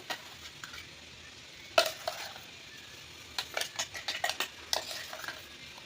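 Ground paste being stirred into maida flour in a bowl for a jackfruit recipe: a spoon taps and scrapes the vessel in a loose run of soft clinks, sparse at first and then more frequent, close by with no talk.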